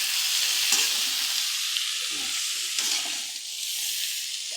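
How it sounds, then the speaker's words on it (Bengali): Bottle gourd frying with cumin in a wok, a strong close continuous sizzle with a few stirring scrapes, dipping briefly before rising again, no speech. "লাউটাকে একটা জায়গায় ভেজে নিচ্ছি কড়াইয়ের মধ্যে"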